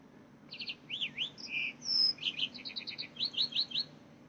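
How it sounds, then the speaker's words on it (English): A small bird chirps and tweets in a quick run of bright, high twittering notes, close and clear over a low, quiet background hum. "Ooh, could you hear him chirping?"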